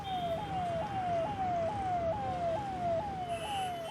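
Ambulance siren wails in a fast repeating rising sweep, about two cycles per second, loud and near as it weaves through bumper-to-bumper traffic heading toward a trauma centre from Noida, over a rumbling road-noise bed.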